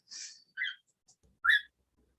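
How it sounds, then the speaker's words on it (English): Three short, bright cockatiel whistles in a quiet room, each a brief rising chirp, separated by pauses. "the cockatiels here are answering him"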